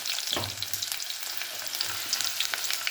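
Onions frying in a pan for puli kuzhambu made with elephant foot yam, giving a steady, close, crackling sizzle with a few brief stirring scrapes and no talk.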